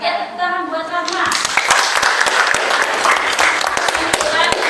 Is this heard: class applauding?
yes